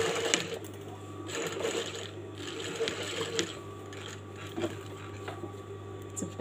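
A sewing machine stitches fabric at close range, a fast, steady mechanical whirr and rhythmic clatter with a low motor hum, running continuously with slight speed changes and no talk.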